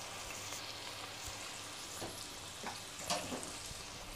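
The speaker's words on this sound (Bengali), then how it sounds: "ভালো করে আমি এখন নেড়ে নিব এটাকে।" Onion paste frying in a pan while being stirred, a quiet continuous sizzle with occasional soft spoon scrapes, close but low in level, with no one speaking.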